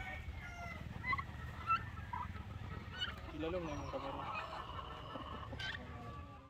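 Pen of crowded turkeys on a farm giving scattered gobbles and clucks, some near and some farther off, over a low steady background with someone speaking briefly.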